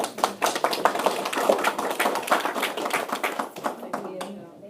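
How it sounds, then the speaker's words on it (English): An audience at a school board meeting gives a round of applause, a dense run of sharp claps that holds steady and fades out near the end. "Another round of applause."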